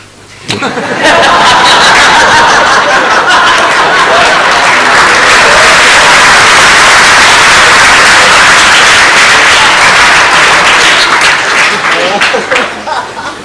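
Audience at a Sunday feast gathering at ISKCON Chowpatty breaks into sustained, loud clapping mixed with scattered laughter, rising quickly and holding steady for over ten seconds before easing off.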